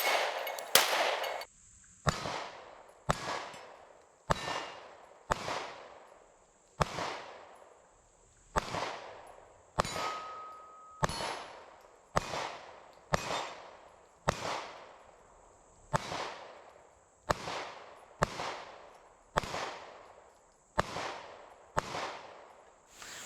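Smith & Wesson M&P 9 M2.0 all-metal pistol firing reloaded ammunition, about twenty sharp shots at a slow, even pace with ringing decays between them, loud and close.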